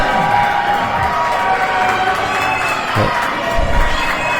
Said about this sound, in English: Man, what a hot crowd here tonight at New Year's Slam 3.